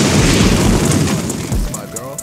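The Flame Destroyer fire move from the Mera Mera fruit in Roblox Blox Fruits, a loud booming explosion with a roaring low rumble that swells and fades quickly, with a voice speaking over it.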